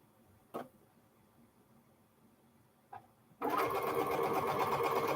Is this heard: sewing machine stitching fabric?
yes